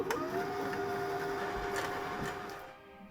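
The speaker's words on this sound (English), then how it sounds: "I turned on my machine and filled a bobbin" A sewing machine winding a bobbin, a steady high-pitched mechanical whir running continuously for a few seconds before winding down, close and fairly quiet.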